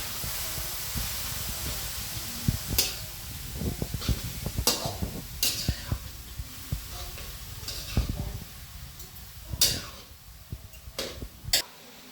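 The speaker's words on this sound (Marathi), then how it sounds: "किसलेले गाजर चांगले 10 मिनिट आपल्याला परतून घ्यायचे।" Grated carrots being sautéed in a pan for gajar halwa give off a steady soft sizzle, punctuated by scraping and stirring clicks of a spoon against the pan.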